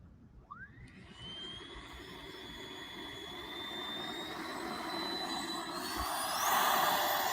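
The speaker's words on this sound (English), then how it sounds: "I like flying the T-33. Yep, that's a nice flying plane." An RC model T-33 jet whines overhead with a rising turbine pitch, its roar swelling steadily louder as it approaches and passes, heard alone without talk.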